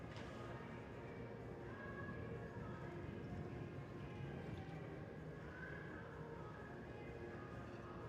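Horse galloping around a show jumping ring at a Longines FEI World Cup speed class in Washington, hoofbeats faint and distant beneath a continuous arena background with a commentator speaking over it.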